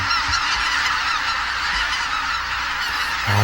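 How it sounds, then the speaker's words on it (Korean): A huge flock of greater white-fronted geese flies overhead after leaving a reservoir, tens of thousands of birds honking in a dense, continuous clamor that fills the air, loud and close, with no voices. "저수지에서 휴식을 취하던 수만 마리의 쇠기러기들이 먹이를 찾아 피상하면서 장관을 자아냅니다."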